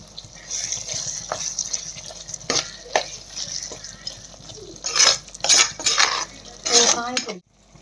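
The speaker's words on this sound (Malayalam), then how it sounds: "നമുക്ക് റെഡിയാക്കി വെച്ചിരിക്കുന്ന ചെമ്മീൻ ഇട്ട് കൊടുക്കാം" Prepared prawns go into a pan for a Kerala-style prawn pickle, with scattered clinks of a utensil against the pan, then a few louder bursts of scraping, stirring and sizzling toward the end, close and alone.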